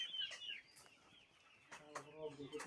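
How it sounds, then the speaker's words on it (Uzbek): A rooster makes a few faint clucks and short calls in a small backyard poultry setting, quiet and close, with no one talking. "Bu xo'rozimiz."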